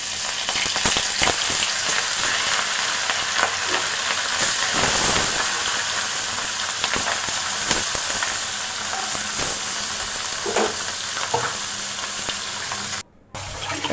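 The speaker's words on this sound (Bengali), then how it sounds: "এবার মাছগুলো ভেজে নিচ্ছি।" Spiced fish pieces fry in a pan with a loud, steady sizzle and hiss, crackling bursts rising and falling throughout, briefly cut off near the end.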